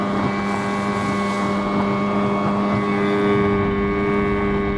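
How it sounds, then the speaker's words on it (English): A tiny homemade boat's two-stroke outboard runs at speed with a steady, high-pitched buzzing whine, constant and close, with wind rushing over the microphone throughout. "The engine's running good."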